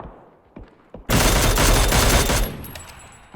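A loud burst of rapid gunfire in PUBG erupts after a few scattered shots, sustained automatic fire that rattles on before tapering off.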